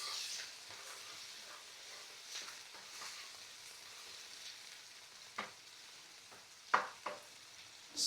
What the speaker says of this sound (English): So we'll cook the shrimp